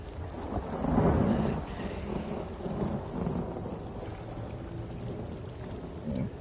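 A lightning staff in the Elder Scrolls Online video game sets off a thunder effect, a deep rumbling roll that swells early and then fades into a steady rain-like hiss, with no speech.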